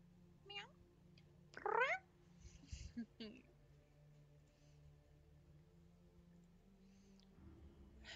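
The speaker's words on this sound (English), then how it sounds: "Meow." A cat meowing in the horror game Tormentum, a few distinct meows, one loud and rising, over a quiet ambient background.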